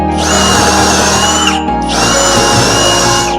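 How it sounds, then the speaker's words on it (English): A power drill whines loudly while boring holes in wood for a woodworking build, running in two long bursts separated by a brief pause. "So I drilled out all the holes for these."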